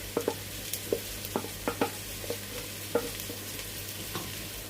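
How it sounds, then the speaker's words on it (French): Chopped leek and grated ginger frying quietly in a pan, a soft sizzle broken by irregular utensil taps and stirring scrapes. "On va rajouter du poireau déjà haché, ainsi que du gingembre râpé."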